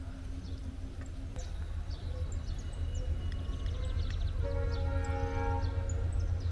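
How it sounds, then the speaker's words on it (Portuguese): A loaded freight train hauled by five BB36-7 locomotives approaches in Formiga, Minas Gerais, a steady low diesel rumble building over several seconds with tonal horn-like bands emerging near the end, faint birds above. "Tá chegando o trenzão."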